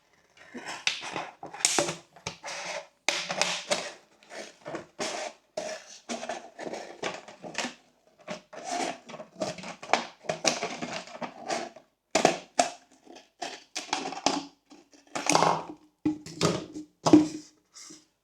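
Continuous crinkling and crunching of a thin plastic bottle being cut with scissors and bent, with rapid irregular snips and cracks up close for a long stretch.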